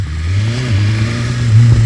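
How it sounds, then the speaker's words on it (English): A BMW S1000RR sport bike on its stock exhaust revs hard and close, a steady deep engine drone climbing toward the end of the short burst. "I think the stock exhaust sounds pretty good"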